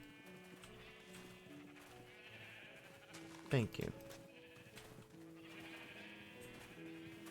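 Video-game sheep bleat in bursts through a busy mix of music and game sounds, with one loud, short vocal cry standing out partway through, and a person speaks briefly.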